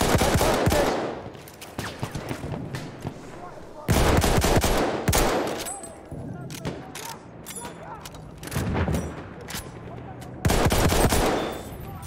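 Loud bursts of machine gun fire in the World War I shooter Battlefield 1, three long rattling volleys with quieter gunfire and battle noise between them.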